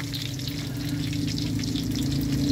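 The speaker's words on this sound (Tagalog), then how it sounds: "Malutong na yung kanyang pinipritong lumpia." Lumpia fry in hot oil with a continuous, even crackling sizzle heard up close, over a low steady hum, with no talking.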